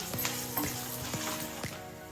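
Green chilies, curry leaves and turmeric fry in hot oil for mint rice, giving a steady close sizzle with a spoon scraping and stirring through the pan several times.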